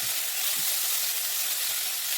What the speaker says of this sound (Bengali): যাতে বেশি ভাজা দরকার নেই, অল্প একটু হালকা ভেজে নিলাম।